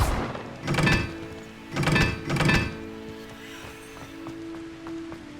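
The Revelio reveal spell goes off in Hogwarts Legacy as three soft, muffled whooshing thumps in quick succession, followed by a faint shimmering hum.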